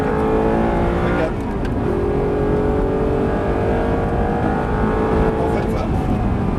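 An Audi R8 on the Lohéac race track during a driving course, its engine droning loudly from inside the car with pitch climbing as the throttle is reapplied, a steady close roar throughout.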